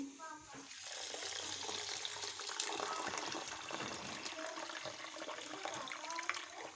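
Water is poured from a tap or vessel onto moong dal with a little baking soda in a bowl to soak, a steady gushing splash that fills the whole stretch at moderate volume.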